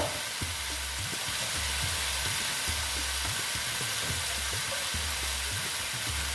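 Ground cumin added to hot oil in a frying pan for a vegetarian soya chunk dish, a dense steady sizzle with scraping stirring strokes repeating underneath, close and continuous.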